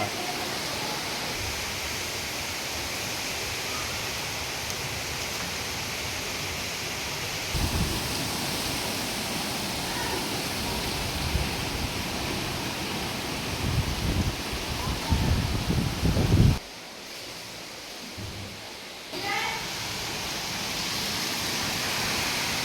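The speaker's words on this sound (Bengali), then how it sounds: "বৃষ্টি আর বাতাস শুরু হয়েছে" Heavy rain and gusting storm wind during Cyclone Remal in Pabna, a steady loud roar of downpour with surging gusts, dropping briefly near the end before returning.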